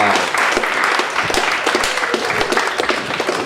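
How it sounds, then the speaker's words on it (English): A stand-up comedy club audience breaks into steady, loud applause with scattered cheers, the clapping dense and continuous across the whole stretch with no talking over it. "keep your cheering, ladies and gentlemen"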